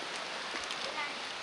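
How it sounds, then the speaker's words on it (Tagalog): Rain falls steadily in an outdoor setting near a small hut, a broad even hiss with a few louder patters, while people talk nearby. "So inabot na tayo ng ulan"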